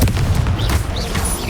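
Confringo blasting spell in the video game Hogwarts Legacy, heard as a dense, loud rumbling burst of explosive booms with crackling, lasting throughout, no voices.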